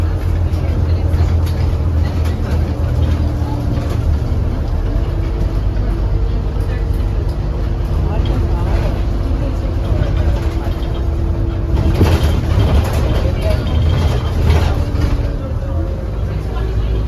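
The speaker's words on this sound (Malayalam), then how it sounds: "ഈ ബസ് ബോർഡ് ചെയ്ത് നേരെ വൂളിനാണ്" Steady engine drone and road rumble inside a bus travelling to Wool in Dorset, England, loud and continuous throughout with a brief swell of noise near the end.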